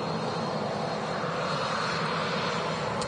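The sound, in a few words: Turkish Airlines Airbus A330 taxiing out at Manchester Airport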